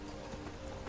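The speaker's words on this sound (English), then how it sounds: "Horse riding!" A horse's hooves clip-clop at a steady pace while riding in the video game Skyrim, a quick even rhythm under continuous game background noise.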